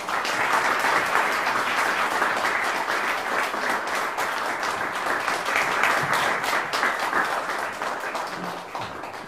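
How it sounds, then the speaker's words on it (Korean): Audience at a Korean piri lecture concert applauding steadily for about nine seconds to welcome a lecturer onstage, a dense, even wash of many hands clapping with no speech over it. "우리 윤중강 선생님 큰 박수로 모시겠습니다"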